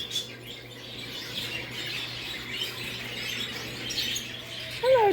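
Canaries chirp in a large exotic bird store, their small, faint calls scattered over a steady low hum and room noise, with a brighter, closer chirp near the end.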